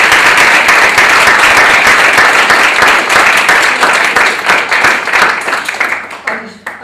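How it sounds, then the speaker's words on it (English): Audience applause after a talk on self-esteem, a dense, steady wash of many hands clapping close by that holds strong before thinning and tapering off near the end. "I'd like you to give another round of applause for Christina"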